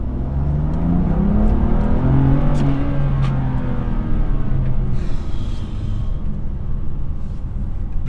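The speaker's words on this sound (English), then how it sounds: "now we're going to do a second gear pull past Jay." A BMW M2 Competition with a Remus exhaust revs and accelerates hard in second gear, its exhaust note rising steadily in pitch before easing off, loud and close with no talking.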